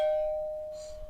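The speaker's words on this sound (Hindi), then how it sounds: "अच्छा जाने में भी घंटी बजती क्या?" A doorbell in a home gives one sustained electronic chime that slowly decays over about a second, with faint room noise beneath it.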